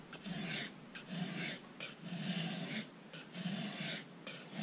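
A Victorinox Tinker pocket knife is drawn across a Fine India sharpening stone in close, repeated gritty rasping strokes, each lasting about half a second, with short pauses between them.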